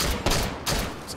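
A quick pair of loud gunshots in the video game Hot Dogs, Horseshoes & Hand Grenades, fired during an outdoor Take & Hold run, with dense rumbling noise in between and no voices.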